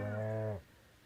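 Stardew Valley cow gives one short, clear moo, rich and harmonic, lasting about half a second before quiet.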